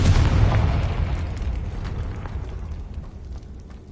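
A Confringo blasting-curse explosion in Hogwarts Legacy on PS5: a loud, deep boom bursts out at the start, then rumbles and crackles as it fades away over a few seconds, with no one speaking.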